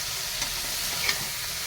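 Soaked lentils being stirred in a frying pan give a continuous moderate sizzle, with a couple of soft spoon scrapes breaking through.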